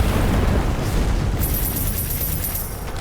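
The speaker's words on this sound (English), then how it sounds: "Dynamite out! Fire in the hole!" A dynamite blast in the game Strange Brigade, a loud, heavy boom that fills the moment with rumbling low-end roar and debris noise and then settles into a lingering tail.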